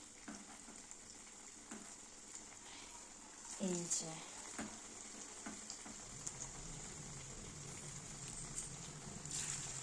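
Prawn fritters deep fry in hot oil in a small pan, three at a time, giving a continuous close sizzle and crackle, with a brief spoken comment heard over it.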